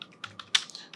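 Keys on a computer keyboard are struck in a handful of quick, light taps, close and fairly quiet, with no talking.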